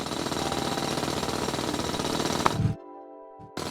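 A mining drill in the video game Chipmatic grinds in a loud, dense, rapid hammering rattle that runs steadily, then cuts off abruptly into near silence before briefly starting again.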